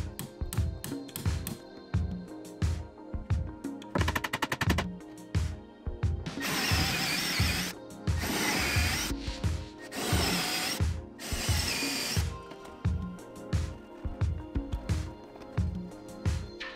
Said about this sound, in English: It's a 3/8 inch drill bit, and I hammered in some 3/8 inch dowels.